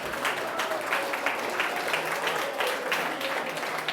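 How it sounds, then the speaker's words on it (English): Round of applause at a reggaeton awards ceremony, a steady wash of clapping from the audience held at moderate level for a few seconds. "Let's give Jaime a round of applause"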